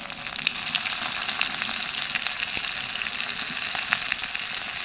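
Onions fry in oil with cumin paste, a steady close sizzle and crackle that holds level throughout, with no talk over it.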